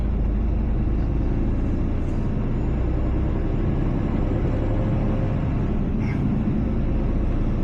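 An HGV lorry pulling a trailer drives on the road toward the A14 motorway, giving a loud, steady, continuous engine and road rumble throughout with no talking.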